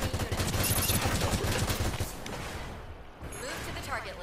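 Rapid automatic weapon fire from a mobile suit in the Gundam Evolution video game, a dense continuous burst of shots that thins toward the end, loud and up close.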